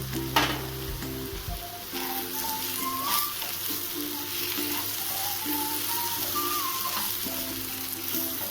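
Potato and okra bhujia frying with roasted spice powder in a pan gives a steady soft sizzle with light stirring scrapes throughout, fairly quiet and close, with faint tonal background beeps and no talk.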